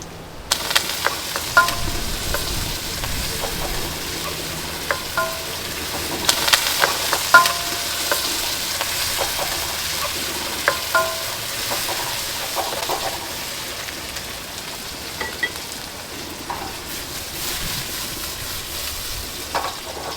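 Garlic and tomatoes sautéing in a pan, with steady sizzling and frequent stirring scrapes over more than twenty seconds, close and continuous, while chickens cluck faintly in the background.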